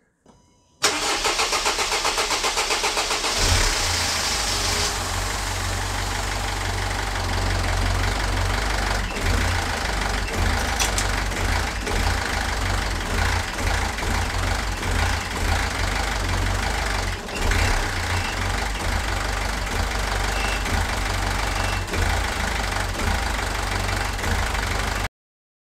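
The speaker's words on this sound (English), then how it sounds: "so now let's start the engine up and see how it sounds" Mercedes E220 CDI W210 diesel engine cranking briefly and catching after fuel pump work, then settling into a steady clattering diesel idle, close and loud with no talk.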